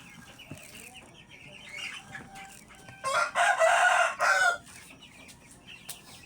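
A rooster crows loudly for about a second and a half over a quiet farmyard background with faint clucking chickens, including Rhode Island hens, and scattered bird calls.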